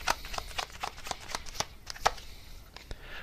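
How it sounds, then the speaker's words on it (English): Tarot cards being handled and drawn from a deck, a quick run of close, crisp card flicks and slides over about three seconds, with no talking. "So let me just get one more card here for any extra info."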